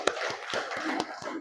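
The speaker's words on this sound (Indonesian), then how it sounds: "Bagus, tepuk tangan." Classroom applause in an Islamic religious studies lesson, a short burst of a few students clapping with sharp, uneven claps, close by.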